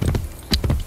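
Horse hooves clip-clop in the video game Assassin's Creed Brotherhood, a quick close run of about four or five hoof strikes in under a second.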